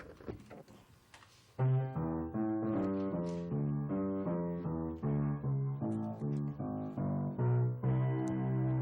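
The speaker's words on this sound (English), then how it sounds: "the bass has a style of playing which is called walking" After a moment of quiet, a jazz bass steps through a steady walking line, one plucked note per beat, clear and up close.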